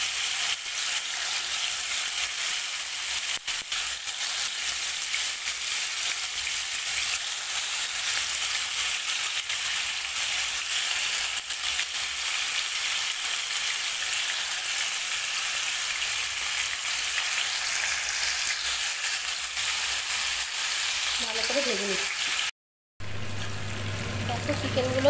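Chicken pieces for chicken vuna fry over high heat in a pan, a loud, even sizzle running unbroken for a long stretch before a short cut and a voice at the very end.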